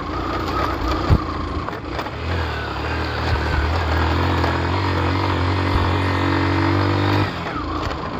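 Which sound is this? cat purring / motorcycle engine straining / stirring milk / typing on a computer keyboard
motorcycle engine straining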